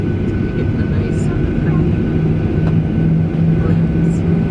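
Passenger airplane in flight, a loud steady engine drone and cabin rumble filling the whole stretch without a break.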